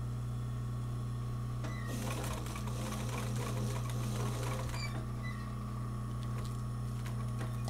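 A sewing machine stitching yarn embroidery onto fabric hums steadily throughout, with a denser, busier rattle of fast needle strokes through the middle stretch and no talking.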